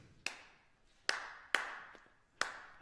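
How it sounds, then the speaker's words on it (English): A single person claps a slow, uneven rhythm on a lecture stage, five crisp claps with ringing room reverb trailing each, mid-distance and alone without speech. "I'm going to clap a rhythm"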